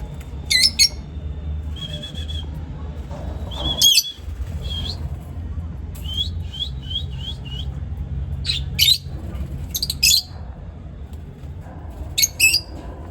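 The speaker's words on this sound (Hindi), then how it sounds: "ये देखिए दोस्तों बजीज कितनी अच्छी आवाज़ निकाल रही है" Budgerigars chirp and squawk in quick, sharp bursts, some close and bright, with short pauses and a low background hum between calls.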